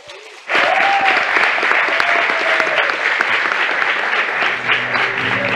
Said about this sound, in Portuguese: Salve de palmas para todos.